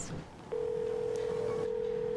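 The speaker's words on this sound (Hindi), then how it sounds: "अब कौन फोन कर रहा है?" A phone in a Bhojpuri husband-and-wife comedy scene sounds a steady, unbroken electronic tone that starts abruptly and holds loud and clear over faint background noise.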